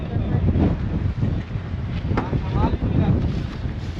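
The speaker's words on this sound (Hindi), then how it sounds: "हवा देखें कितनी तेज़ चल रही है व्यूअर्स" Strong wind buffets the microphone at a house foundation construction site with raised columns, a steady broadband roar with gusts throughout.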